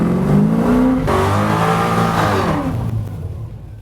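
A car running salvage-yard engine parts revs hard on a rear-wheel dyno at a performance shop in Spring Hill, Tennessee, its loud, close engine note climbing and shifting in pitch before easing off.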